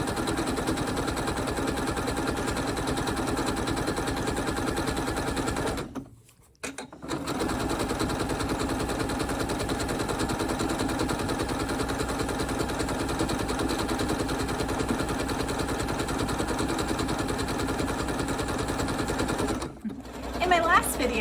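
A sewing machine stitches a scalloped edge on a wool scarf, humming with a fast, steady whir. The whir stops briefly twice, then resumes.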